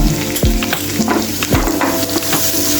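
Green chili and a pinch of asafoetida frying in oil in a pan for besan vadi tempering: loud, dense crackling sizzle throughout, punctuated by spoon knocks and scrapes against the pan.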